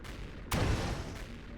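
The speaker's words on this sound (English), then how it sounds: "Who's shooting missiles at me now?" A missile fired at the player in Empyrion Reforged Eden, a single sudden loud boom and rushing burst cutting in after a quieter rumbling stretch, then fading into a sustained roar.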